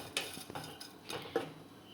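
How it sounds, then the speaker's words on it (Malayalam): Dried prawns fry in a pan while a utensil scrapes and clinks against the metal in irregular stirring strokes, close and fairly quiet, with no voices. "ആദ്യമായിട്ട് ചെമ്മീൻ ഒന്ന് ഫ്രൈ ചെയ്തെടുക്കാം കേട്ടോ"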